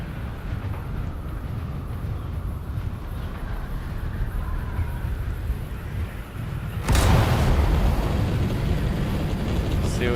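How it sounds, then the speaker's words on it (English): Spice explosion in Dune Awakening, a sudden deep roaring blast that swells over a steady rumbling desert wind and stays loud and sustained to the end. "There's another spice explosion and another one."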